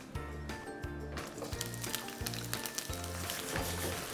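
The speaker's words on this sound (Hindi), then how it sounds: "ऑयल गर्म है, सबसे पहले गर्मा गर्म तेल के अंदर आलू को फ्राई करना है।" Potatoes fry in hot oil, giving a steady, close crackling sizzle with rhythmic low thumps running underneath throughout.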